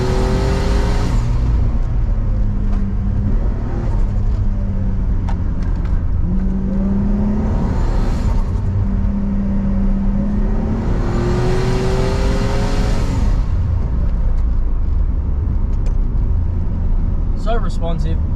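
Turbocharged RB30 engine in a Nissan Skyline R31 with an automatic gearbox, heard from inside the car as the engine revs rise and fall through gears, with a steady road roar and someone talking over it.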